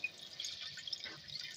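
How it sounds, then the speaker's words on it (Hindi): Water being poured into chicken nihari in a cooking pot gives a soft, steady trickle and splash with faint dripping, quiet and close, with no voices. "अब मैं इसके अंदर पानी ऐड कर रही हूँ।"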